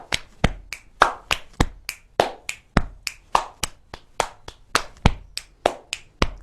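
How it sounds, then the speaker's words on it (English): Butterfly clap body percussion: a steady run of sharp, close hand claps and slaps, about three per second, crisp and alone with no talk. "Butterfly clap."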